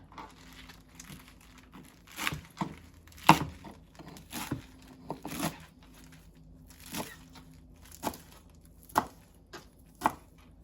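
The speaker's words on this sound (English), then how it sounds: "what I'm gonna do on this one is I'm just gonna slice it" A knife slicing gathered Swiss chard leaves on a board gives a series of crisp, crunchy cuts at an uneven pace, close by and with quiet gaps between strokes.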